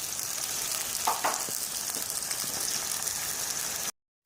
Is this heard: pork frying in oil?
yes